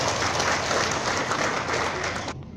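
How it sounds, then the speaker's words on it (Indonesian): Steady applause from a seated audience for a council chairman at an indoor political party event, dense and even, then cutting off abruptly near the end. "Aplaus untuk Ketua Majelis."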